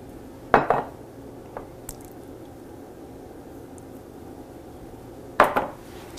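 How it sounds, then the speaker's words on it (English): Flour, salt and instant yeast mixed in a bowl for no-knead bread, with two sharp utensil knocks against the bowl, a few faint scrapes and quiet pauses between. "Mix the dry ingredients together."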